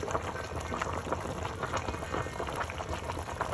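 Pork bone soup with pickled cabbage boils in a pot, giving a steady close bubbling and popping that carries on without a break.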